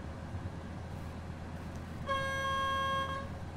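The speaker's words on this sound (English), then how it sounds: "You can still hear the horn from back here." A train horn sounds in the Train Simulator 2020 video game: a loud, sustained multi-tone blast lasting about a second over a steady rumbling background, heard from the rear of the train.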